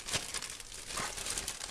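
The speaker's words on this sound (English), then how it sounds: "So I'm going to put the paint in the little plastic bag" A little plastic bag crinkling as acrylic paint is put in, soft close rustles and crackles in quick irregular bursts.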